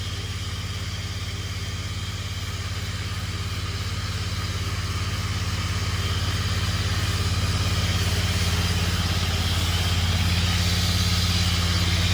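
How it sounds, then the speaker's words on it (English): A throttled-down machine engine on a residential grass-cutting job drones steadily and close, a constant low mechanical hum that grows slightly louder toward the end, with no voices. "I also have the machine throttled down right now"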